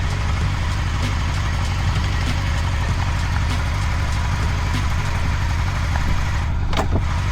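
A Honda Nighthawk CB750 motorcycle engine idles steadily and close by, a constant low rumble running alone without pause, with a brief higher sound near the end.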